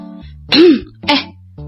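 Two short throat clears, the first longer and rougher, the second quicker, close and fairly loud against a quiet background.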